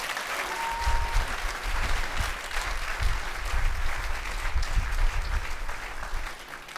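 Audience applause at a French media awards ceremony, a steady rolling wash of many hands clapping together, even and continuous from start to finish with a faint low rumble of the room underneath.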